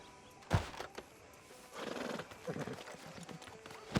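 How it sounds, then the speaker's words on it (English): Hooves clip-clop on hard ground alongside a horse's snort and whinny in the video game Red Dead Redemption 2, with scattered louder hoof strikes, fairly close and without talk. "Can you grab Anders off your horse and carry him in for me"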